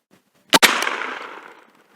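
A shotgun shell with its edges cut so it fires like a single slug goes off loud and close as one sharp blast, then a short ringing echo fades over about a second.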